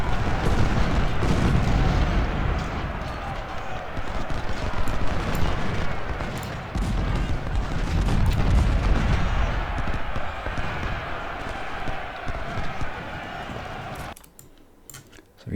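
Battle din from Ultimate General: Civil War, a dense barrage of gunfire and artillery rumbling loudly and steadily for most of the stretch before dropping off abruptly near the end, with a voice talking over it.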